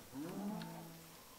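A single cow lets out one drawn-out, fairly faint moo in the blocky sandbox game Minecraft, heard alone without talk.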